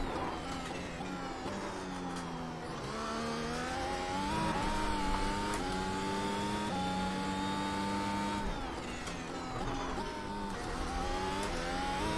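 A Formula 1 car laps the Oulton Park circuit in a racing video game, with a continuous high engine whine that climbs through gears and drops at shifts, loud and steady throughout.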